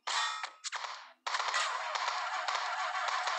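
Video game gunfire: rapid bursts of automatic shots with sharp metallic clangs, a short gap, then a sustained stream of crackling fire, loud and close, with no talking.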